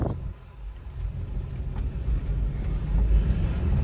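A 1967 Chevrolet Chevelle Malibu V8 engine rumbles steadily in first gear with a deep, continuous drone that swells louder toward the end; no clear talking.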